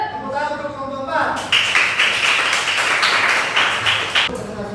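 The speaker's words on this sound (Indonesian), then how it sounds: "Tepuk tangan untuk kelompok Pak" Students clapping for a group in a classroom, a dense burst of applause starting after a voice and continuing steadily for several seconds, close and loud.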